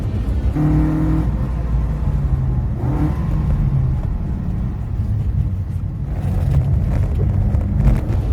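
Alfa Romeo Giulia Super being driven, its engine droning steadily and loudly from inside with wind rush throughout, the pitch shifting slightly as the car changes speed, and no voices.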